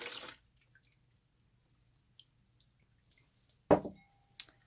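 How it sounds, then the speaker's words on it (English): Purple dye poured from a beaker into a bucket of water for overdyeing cotton denim: one short splashing gush near the end, set in near-silence with a faint later splash. "and then pour the dye"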